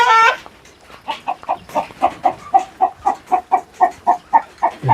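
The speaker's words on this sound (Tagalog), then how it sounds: "Yan po manok, mga kababayan." Chickens cluck at a poultry farm in a steady, evenly spaced series of close, loud clucks, following a brief louder squawk at the start.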